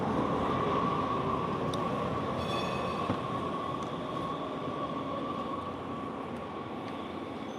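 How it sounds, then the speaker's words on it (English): A train rumbles past close by in a long, steady roar with a sustained metallic whine and clatter, gradually easing toward the end. "We'll continue our walk as the train goes by."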